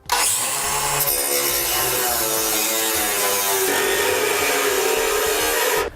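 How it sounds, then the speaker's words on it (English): A battery-powered cutting wheel slices through trailer base rail kit material, a loud continuous grinding whine that holds steady for about six seconds before cutting off abruptly. "I've got a battery operated cutting wheel here."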